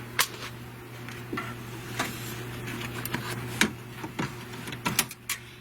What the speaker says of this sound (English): it's going to stitch the placement line for the little heart applique